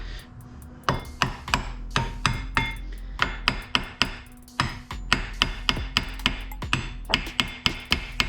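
Sharp metallic hammer strikes drive a brake pad into a tight-fitting Subaru Brembo caliper, landing close and loud in quick irregular bursts of taps with brief pauses between groups.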